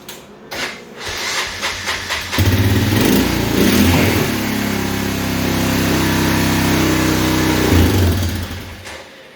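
Honda Fourtrax 300 ATV engine after a timing chain replacement, valve covers off: a few sputtering cranks, then it catches and runs with a close, loud, steady buzzing idle before cutting off.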